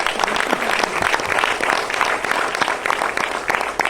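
Audience applause at a motivational speech event in honour of a top company, a dense, steady wash of clapping from a large crowd sustained throughout with no talk over it.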